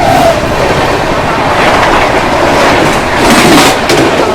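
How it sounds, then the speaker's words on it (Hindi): The 12703 Falaknuma Express rolls out of Kharagpur Junction with a loud, steady rumble and rhythmic wheel clatter heard from inside a 3rd AC economy coach, with faint squeals as it gathers pace. "फिलहाल एग्जैक्ट 4 मिनट रुकने के बाद हम डिपार्ट कर रहे हैं खड़गपुर जंक्शन रेलवे स्टेशन से"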